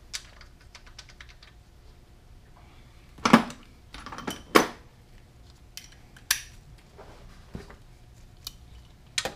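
A breaker bar with a 17 mm socket working the oil drain plug on a Honda Goldwing gives a few sharp, sparse metallic clicks and clanks, close and fairly quiet, separated by near silence.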